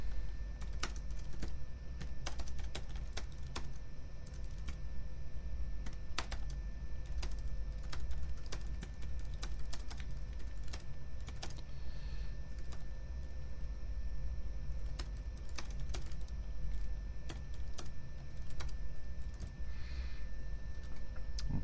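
Continuous clicking of a computer keyboard as a short paragraph is typed, a steady patter of keystrokes with brief irregular gaps.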